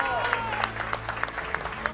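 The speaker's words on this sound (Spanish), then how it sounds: "Un aplauso para el Barça, caray." Applause and crowd noise in a stadium after a football match in which Barça beat Liverpool 3-0, a steady roar of clapping and cheering with scattered sharper claps and whistles throughout.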